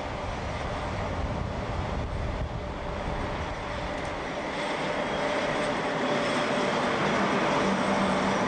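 DB Class 103 electric locomotive hauling an Interregio passenger train, heard as a loud, continuous rushing rumble of wheels and motors passing close by and swelling toward the end, with no voices.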